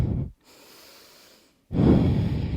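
During a deep hip and upper-body yoga stretch, a person breathes audibly close to the microphone: a breathy exhale, a pause of quiet, then another strong exhale.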